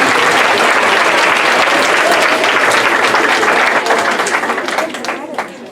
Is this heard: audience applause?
yes